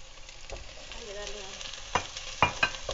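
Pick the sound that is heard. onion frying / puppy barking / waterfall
onion frying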